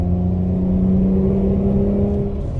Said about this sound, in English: Between 3rd and 4th, you're going to hear the most drone in your car.